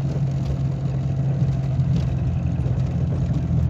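Peugeot 205 engine idling with a steady low hum and faint rumble, continuous and fairly close, no talking over it.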